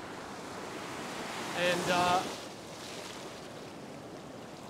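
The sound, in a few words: ocean waves on a beach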